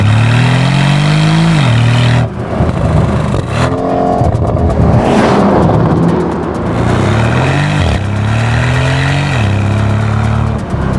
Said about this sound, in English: This has a 4-liter twin-turbo V8 that makes 493 horsepower and 486 pound-feet of torque.